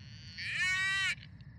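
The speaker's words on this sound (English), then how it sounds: "there's a cow in here" A cow in a dirty truck in a video game lets out a single drawn-out, nasal moo lasting about a second, loud and close over a low background rumble.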